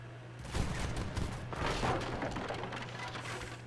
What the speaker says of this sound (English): Grape shot coming in.